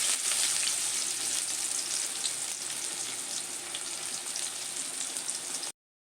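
Chopped onion frying in oil for burnt garlic fried rice, a steady broadband sizzle that runs close and unbroken for several seconds before cutting off abruptly, with no voices.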